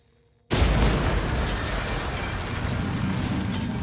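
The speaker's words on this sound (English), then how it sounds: "An explosion rips through the compound." A bomb goes off inside a conference room in a compound, a sudden loud blast after a moment of quiet, followed by a sustained roaring rumble that carries on to the end.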